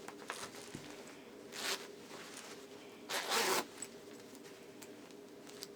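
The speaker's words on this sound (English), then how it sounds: "I zipped it up." A zipper is pulled twice in quick, raspy bursts, the second longer and louder, against a quiet room background.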